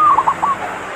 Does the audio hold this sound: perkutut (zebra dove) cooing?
yes